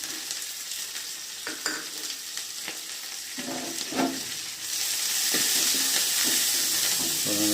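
Curry leaves and onions fry in a pan, a continuous sizzle with scattered spatula scrapes and taps that swells into a louder, hissing sizzle partway through as more goes in, close and with no voices.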